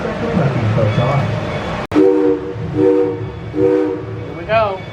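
A Georgetown Loop Railroad train departing with three loud, evenly spaced whistle blasts, heard near after a sharp knock, with people talking around it and a short fourth toot at the end.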